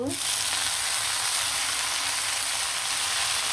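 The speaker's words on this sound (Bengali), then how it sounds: "এখন আমি শাকগুলো ঢেলে দিয়ে দিব।" Red amaranth greens hit hot oil with browned onion and garlic, giving a loud, steady sizzle and crackle that holds across the whole stretch, close and continuous with no talking.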